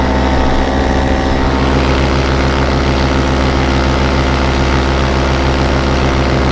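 Powered paraglider engine and propeller droning steadily in flight in the early morning, a loud continuous close-up hum with strong tonal harmonics and no break.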